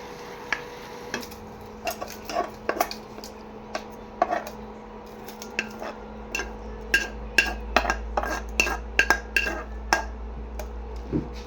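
A metal utensil scrapes and clinks against a pan as mixed cooked vegetables are stirred and lifted off the heat, giving a run of sharp, irregular taps and scrapes that grow busier toward the end, with a steady low hum behind them and no speech.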